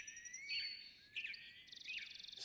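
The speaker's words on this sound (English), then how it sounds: "Starlings are kind of a dirty bird." A starling calls in Farming Simulator 17, producing faint high whistles and sharp chirps in several short bursts that end in a fast buzzy rattle, with no voices.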